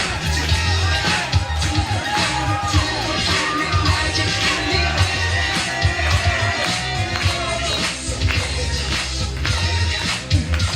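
Wrestling crowd at the Buckley Cup 2017 event, a dense continuous roar of cheering, yelling and clapping from a packed audience, steady and loud throughout.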